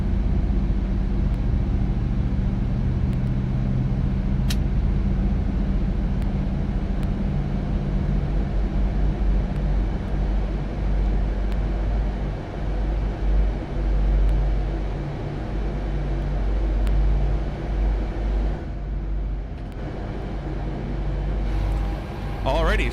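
Jet engines of a PMDG 737-700 in Microsoft Flight Simulator 2024 running at steady idle, a continuous low rumble and hum with a persistent whine that holds level throughout, with a person talking over it.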